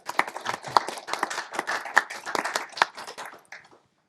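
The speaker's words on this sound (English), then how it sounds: "Big round of applause for Rob." Audience applause for a speaker at a payments and remittance compliance panel, brisk dense clapping for about four seconds that fades out at the end.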